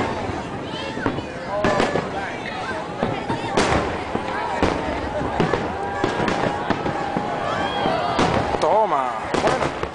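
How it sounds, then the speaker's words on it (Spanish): Fireworks burst over Sydney harbour on New Year's Eve in a dense, continuous run of crackles and booms, mixed with crowd noise and voices. "aquí estamos haciendo los fuegos artificiales"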